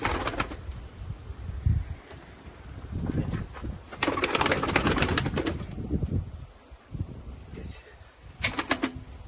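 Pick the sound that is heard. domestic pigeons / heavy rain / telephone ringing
domestic pigeons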